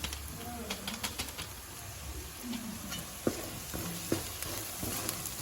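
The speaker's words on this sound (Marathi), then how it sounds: "हे सर्व आता मिक्स करून घेतो।" A masala mixture with turmeric powder frying in a pan, a soft continuous sizzle broken by scraping stirs and a few sharper clinks of a spoon against the pan.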